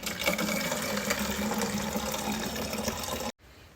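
Water pours into a 2-litre bottle with a loud continuous rushing gush, close by, then stops abruptly near the end, leaving quiet room sound.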